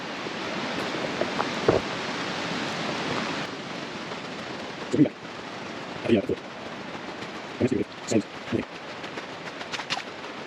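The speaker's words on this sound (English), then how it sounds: "But we really need it to stop raining." Steady hiss of heavy rain falls throughout on a car tent at a campsite, broken by a few soft knocks and rustles nearby.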